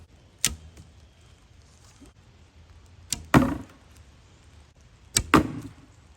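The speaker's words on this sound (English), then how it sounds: "we're going to shoot me shooting the bow and arrow" Three arrows are shot from a bow outdoors, each a sharp snap followed by a quick thud as it strikes, with one landing in the dirt. The shots are spaced a couple of seconds apart.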